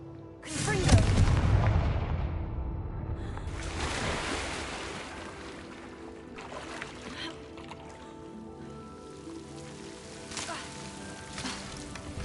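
A Confringo fire spell explodes in a Harry Potter video game, a heavy booming blast that swells loud near the start, then a second burst and a long crackling, rumbling tail that fades under ambient game sound.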